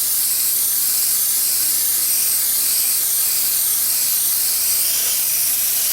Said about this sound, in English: Now when you spray your flames, your second color, you want to spray again all areas where you want the orange to appear.